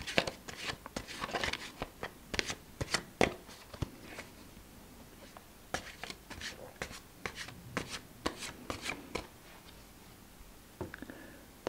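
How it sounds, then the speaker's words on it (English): Quiet, close-up papery riffling and light flicking, a rapid series of soft snaps and rustles of tarot cards being shuffled, with no talking. "I feel drawn to shuffle the cards."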